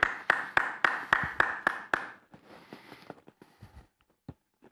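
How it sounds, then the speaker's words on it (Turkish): A single person claps hands in applause during a Turkish football talk show, about nine loud, evenly spaced close claps followed by scattered quieter taps and rustles. "Alkışlıyorum"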